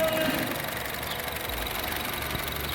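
A 2016 Honda City VX CVT petrol engine idles with the bonnet open, a steady, smooth mid-pitched hum close by with faint rhythmic ticking, no speech.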